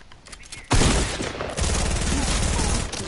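A sniper shot goes off in a video game during a solo match: a sudden loud blast followed by a dense, sustained burst of rapid gunfire that stays close and heavy to the end.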